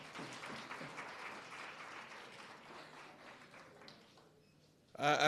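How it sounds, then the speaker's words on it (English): At an education summit in Omaheke, a hall audience gives a round of applause, fairly faint and distant, that tapers away over several seconds before a speaker's voice comes in loudly at the end. "Can we please have another round of applause?"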